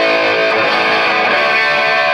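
A 2006 Gibson Les Paul Standard Gold Top electric guitar rings out with reverb, its sustained chord loud and close, blooming with a fresh strum midway and lingering in a wash of echo.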